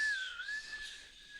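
A person whistles with an unusual tongue position behind the teeth, producing a single thin, steady high-pitched tone that fades slightly over its short length.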